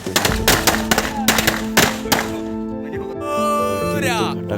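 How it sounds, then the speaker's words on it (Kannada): Firecrackers bursting at a Ganapati festival arrival in Belagavi, a rapid string of sharp loud cracks for about two seconds, then a sustained musical tone and a rising whistle, with no voices. "ಫಟಾಕಡಿ"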